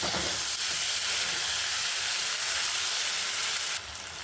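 Tomato-ground spice paste sautéing in hot oil for a vegetarian potato and pointed gourd korma, giving a steady dense sizzle and hiss throughout that cuts off sharply near the end, with no talk.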